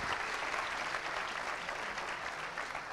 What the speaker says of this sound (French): Merci beaucoup à vous, on peut applaudir une nouvelle fois.